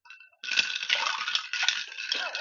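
Ice clinks and rattles against glass as an apple cider old fashioned cocktail is stirred, a bright, close, continuous jangle after a brief quiet start.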